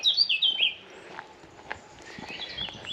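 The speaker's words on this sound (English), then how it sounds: "Full of bird song all the way around" Birds chirp and tweet in quick bright bursts at a fen nature reserve, loudest at the start and then fading to faint calls over soft rustling and footsteps.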